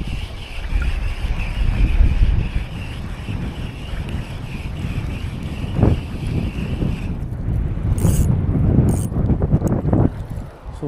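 Strong wind buffets the microphone while fishing from a kayak on choppy sea, a steady loud roar with gusts, brief splashes and faint water sounds, no talking.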